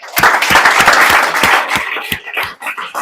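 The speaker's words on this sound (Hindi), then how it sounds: "ताली बजा दो भाई।" Audience clapping breaks out after a teacher's request at a student felicitation ceremony for an IIT topper, a dense burst of many hands that thins into scattered claps near the end.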